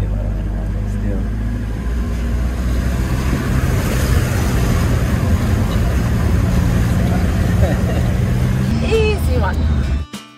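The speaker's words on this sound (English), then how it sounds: "We usually always check the water depth before a river crossing, but this time we just take a chance." A vehicle drives through a river crossing on a remote outback track, loud churning and sloshing water mixed with engine rumble and wind buffeting, continuing steadily before cutting off abruptly at the end.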